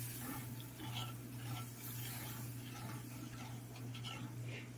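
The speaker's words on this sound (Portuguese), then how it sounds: "Agora é só mexer." Potatoes and milk are stirred in a pan for a creamy potato dish with gorgonzola sauce: a faint, steady scraping and soft sizzle over a low electrical hum, with no talking.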